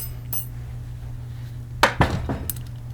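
A metal snap ring for a control arm rebuild clinks as it is handled, a few sharp close metallic taps and chinks over a steady low hum.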